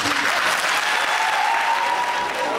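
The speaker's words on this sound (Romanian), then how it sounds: "Slabe, astea sunt aplauze." A concert audience in Hannover gives dense, sustained applause, loud and close, with a faint voice or tone drifting underneath partway through.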